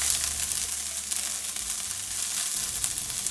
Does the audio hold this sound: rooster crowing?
no